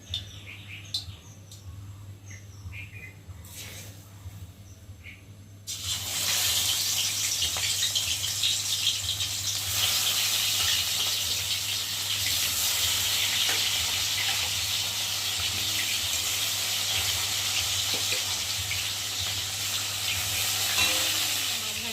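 Pieces of rohu fish drop into hot oil and set off a sudden loud sizzle that holds strong and steady for the rest of the stretch, after a quieter opening with faint bird chirps in the background.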